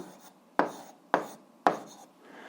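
Pen strokes writing an algebra solution by hand on paper, three distinct scratchy strokes evenly spaced about half a second apart, close and quiet with no talk.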